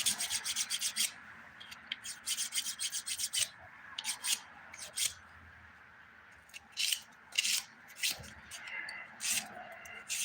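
A nail file rasps against fingernails in quick, repeated bursts of scratchy strokes, close to the mic, with pauses between passes and a voice speaking faintly in between.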